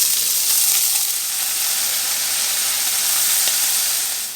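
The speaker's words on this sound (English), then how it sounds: "we're going to brown the diced ham." Diced ham sizzles and fries steadily in a hot pan, a loud, continuous close-up crackle and hiss with no talking.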